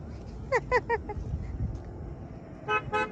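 Car horn honking on a busy road, two short bursts of toots early then another quick series near the end, over low traffic rumble, moderately close.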